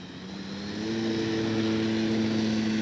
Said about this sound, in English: one of the main reasons you would be buying this plane is so that you could take off on a grass field.